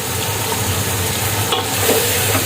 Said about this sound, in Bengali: তো এটা আমি ভালোভাবে ভাজা ভাজা করে কষিয়ে নিব